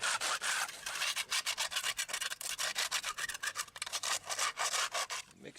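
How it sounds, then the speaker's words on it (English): Loose material being scraped off a chimney ahead of repainting: dense, rasping back-and-forth strokes, close and loud, continuing steadily with no talking. "Just going to scrape the loose stuff off and repaint it."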